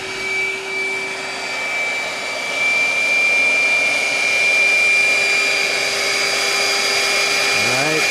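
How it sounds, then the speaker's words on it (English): A wet-dry vac roars steadily and loudly, with a high whine, while sucking black sands and gold off the top of a micron table at a gold mill. It runs continuously and without pause throughout. "what he's doing is taking the wet dry vac and vacuuming up all of the black sands and gold from the top of the micron table"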